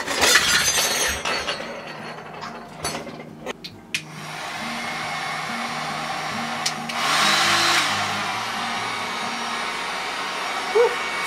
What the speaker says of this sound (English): I'm going to get my heat gun out